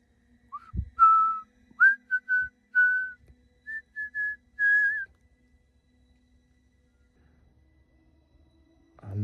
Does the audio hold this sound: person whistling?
yes